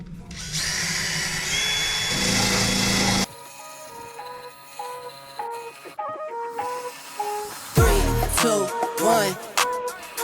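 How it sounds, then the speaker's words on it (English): Drill-mounted wire wheel scrubbing light surface rust off a van body, a loud steady whirring grind for about three seconds, then quieter intermittent buzzing and a brief harsh burst near the end. "So trusty wire wheel on here."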